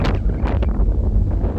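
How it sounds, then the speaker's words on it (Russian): Strong wind on a beach at night buffets the microphone in loud, rumbling gusts, with brief rushing bursts and no voices. "когда срывается такой ветер неожиданно"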